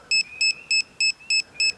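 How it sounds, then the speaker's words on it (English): A metal detector pinpointer (Xp MI-6) beeps in six short, evenly spaced electronic tones, clear and close, with no talking. "You see that pinpointer beeping?"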